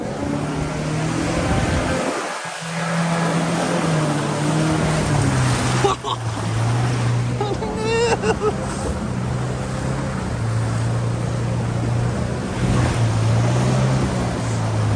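Boat engine droning steadily while travelling through swampland, loud and close with a constant low hum, wind and water noise around it and people talking over it.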